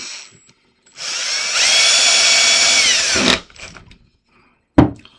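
A power drill drives screws into a commercial lever handle during installation, one sustained close, loud whir of about two seconds followed by a short second burst.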